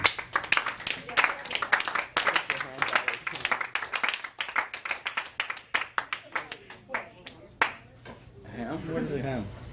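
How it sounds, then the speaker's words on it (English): A family group at home claps a lively, uneven round of applause for several seconds with crisp, close hand strikes, then it trails off into people talking. "Round of applause."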